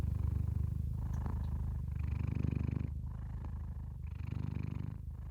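A house cat purring up close and steady, its rhythmic rumbling breaths rising and falling in long cycles with no talk over it.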